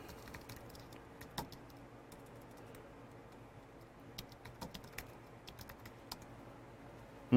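Router configuration commands typed on a computer keyboard, a quiet, irregular patter of key clicks with small bursts and gaps, close up over a faint background hum, no talk.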